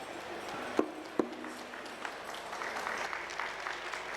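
Scattered applause from a conference panel audience, a couple of sharp claps standing out early, then a thin, diffuse patter of hands that stays fairly quiet and distant.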